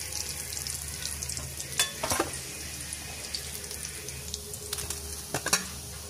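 Pakoda batter sizzling in hot oil, a steady close frying hiss with a few sharper clinks and stirring bursts.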